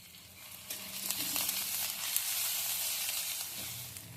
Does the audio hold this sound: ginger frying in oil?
yes